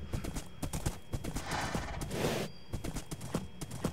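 Horse hooves clip-clop in a Minecraft prairie, a steady run of quick, close knocks across the whole stretch, with a brief rushing swell in the middle.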